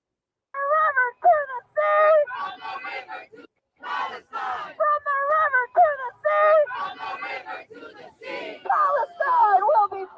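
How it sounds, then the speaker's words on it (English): A protest crowd on a New York street chants in unison, rhythmic shouted phrases repeating in short bursts with brief gaps, loud and close with a pro-Palestine slogan carried by many voices. "just listen to what they're chanting"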